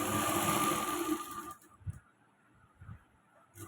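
A sewing machine stitching fabric for a newborn baby's chest cover, a close, steady motor whir for about a second and a half. It then stops, leaving only faint soft handling noises.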